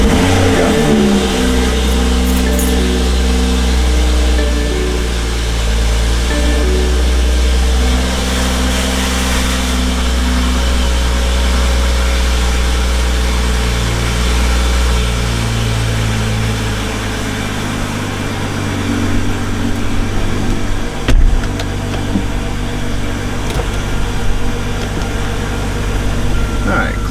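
A BMW M340i's engine runs steadily with a low, even drone that stays loud throughout, picking up some extra surges and bumps near the end while a person talks over it.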